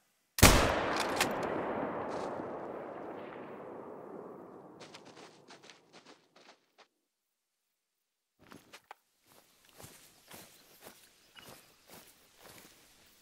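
A single rifle shot at a doe in the hunting game theHunter: Call of the Wild, set at Layton Lakes, cracks sharply and rolls off in a long fading echo. After a quiet pause, soft scattered footsteps follow.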